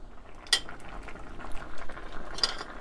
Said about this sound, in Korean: 그래서 다시 채소들이 익을 때까지 끓여줘요